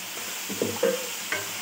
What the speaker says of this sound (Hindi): अभी हमने सिर्फ इस मसाले को इसके साथ भूनना है।